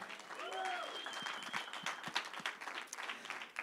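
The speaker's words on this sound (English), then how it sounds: "So give yourselves a round of applause." Audience applause at a community foundation Giving Tuesday gala, a fairly faint, scattered patter of clapping with some crowd noise and a brief voice at the start.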